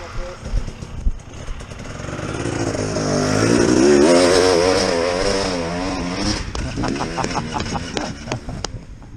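A dirt bike engine revs hard on a steep climb during enduro riding, the whine building to a loud peak midway before falling into choppier bursts, with people talking around it.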